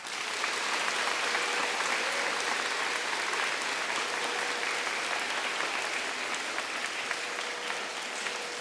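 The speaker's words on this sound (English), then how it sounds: "So everyone give them a big clap." Audience applause at a public school opening ceremony, steady and dense clapping from a large crowd filling the whole stretch at an even level, with no talk over it.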